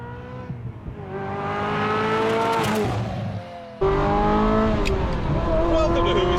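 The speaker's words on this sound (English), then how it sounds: "I am in my newly purchased 1996 Ferrari F355 on my way to the car wizards to find out what's wrong with it" A 1996 Ferrari F355 engine hums and revs steadily from inside the cabin while driving, a continuous loud tone that shifts pitch as it accelerates, with a brief dip before surging again.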